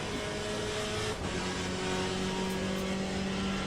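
A GTE race car in a sim racing game without ABS drones along under steady engine load, its pitch shifting through held tones and a brief dip, with no one speaking.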